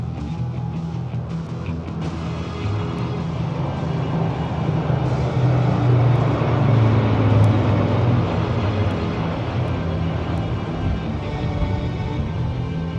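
Military aircraft formation, a pair of C-295 transports flanking a lead plane, passes over a Republic Day parade along Kartavya Path, a broad steady engine roar that swells toward the middle and fades slightly, with crowd ambience beneath.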